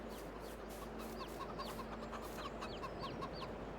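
Chickens and a rooster cluck steadily in a farmyard in the Farming Simulator 22 video game, with repeated short calls at a moderate distance over a constant background hum.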